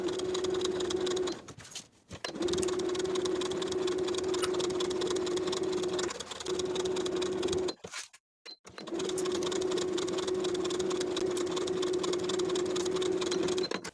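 A sewing machine stitches a skirt side seam around the pocket down to the hem with a half-inch seam allowance. Its steady, close mechanical whir runs continuously and stops briefly twice.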